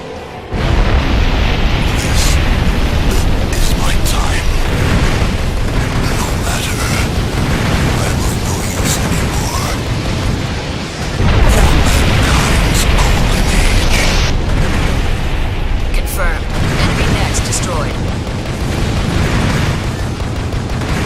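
Loud, dense explosions and booming blasts from the Armored Core 4 video game as an enemy nest is destroyed, a near-continuous roar of bursts and rumbling with a brief dip before surging again.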